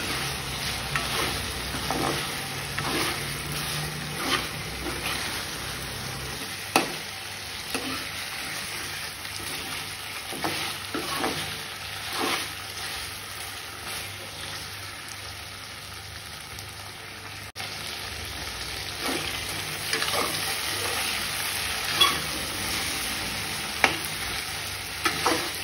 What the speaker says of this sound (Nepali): अब यसलाई मजाले भुट्छु रातो हुने गरी तेलमा।